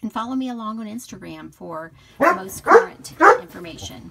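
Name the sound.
dog barking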